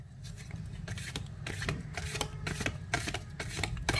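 Tarot cards are shuffled continuously close up, a rapid riffling patter of flicks and slaps with no talking.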